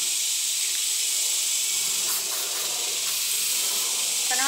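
A can of mosquito repellent sprayed outdoors, one long steady aerosol hiss held close and loud for several seconds, with faint background sounds and no speech.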